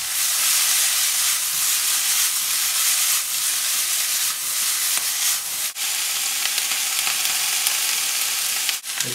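Bell pepper and celery frying in a pan, a loud, steady hissing sizzle held throughout, with a couple of sharp clicks and no talk.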